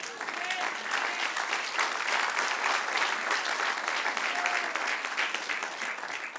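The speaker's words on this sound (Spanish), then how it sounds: "Denle un aplauso al Señor." A large church congregation applauds steadily during a Bible doctrine class, sustained clapping that stays even and loud from start to finish.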